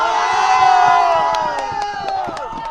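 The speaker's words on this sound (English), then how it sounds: "Let's hear the cheer before you head into the final." A surf team cheering at a world junior surfing championship, a loud group of voices shouting and whooping together, sustained then tapering, with sharp claps and knocks punctuating the cheer.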